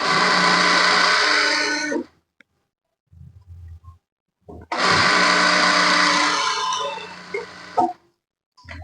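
An electric sewing machine stitches churidar fabric in two long, loud, steady runs of whirring motor and rapid needle clatter, separated by a short pause with faint handling noises.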